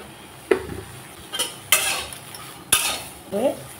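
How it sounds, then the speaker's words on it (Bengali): Long beans dry-roasting in an empty pan, stirred with a utensil: several distinct scraping clinks and knocks against the pan spaced over a few seconds, with faint sizzle between. "বরবটিগুলোকে আমি এইভাবে খালি খোলায় ভেজে নেব।"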